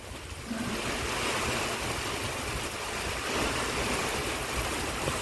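Steady rain falling on a farm field at the season's first monsoon shower, a continuous broadband hiss of drops and running water close to the microphone, unbroken for the whole stretch with no voices.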